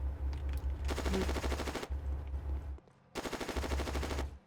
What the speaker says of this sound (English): Friendly or enemy machine gun fire.